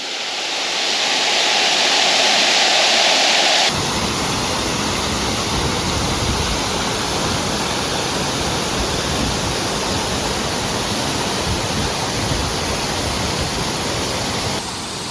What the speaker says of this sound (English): So all the water flows down and into that cave over there.